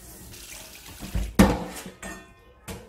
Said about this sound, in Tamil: உள் பக்கம் மட்டும் கொஞ்சமாக தண்ணி சேர்த்து கழுவுறேன்